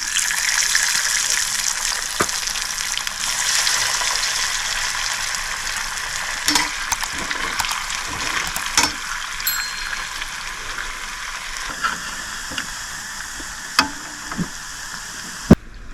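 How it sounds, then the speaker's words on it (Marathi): Kothimbir vadi, coriander fritters, frying in hot oil make a loud, steady hiss and bubbling sizzle throughout, broken by occasional sharp pops and light clinks from a utensil, with no talking. "कोथंबीर वडी तळत आहे"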